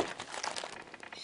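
A sealed box of KHL hockey trading cards is opened, giving a brief dense crinkle of wrapping and cardboard handled up close.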